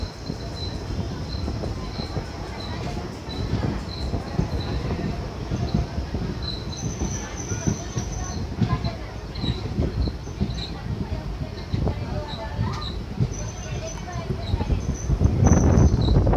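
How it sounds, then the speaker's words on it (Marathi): The Koyna Express rumbles steadily as it arrives at Sangli railway station, a continuous low mechanical roar with scattered high squeaks and a rise in loudness near the end. "बरोबर 10 वाजता सांगली रेल्वे स्टेशनवरती आता कोयना एक्सप्रेसचा अरायवल झालं आहे."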